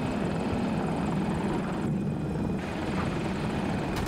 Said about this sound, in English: They got an Apache up, right above the U1.